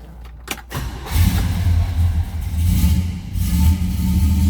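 A 1968 Oldsmobile 442 two-door hardtop fires up after a few clicks and a brief crank, catching within a second and settling into a deep, loud idle with slight revving swells.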